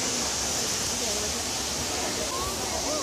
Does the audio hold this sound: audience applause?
no